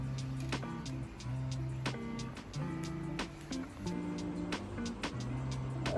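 Printer sending output from a laptop during a serial and parallel communication demo. A steady mechanical hum runs throughout, with tonal whirring steps and frequent sharp ticks and clicks, close and fairly quiet.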